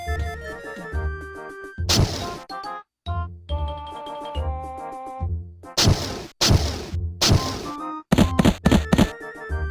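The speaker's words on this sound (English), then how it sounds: "the game will launch some fireworks" Chiptune fireworks from an Animal Crossing e-Reader game on the GBA: bursts of synthesized booms and crackles alternate with bright tonal jingles, several loud pops clustered toward the end.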